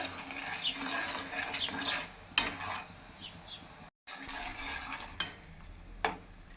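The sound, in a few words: stirring sugar syrup for Mysore pak in a pan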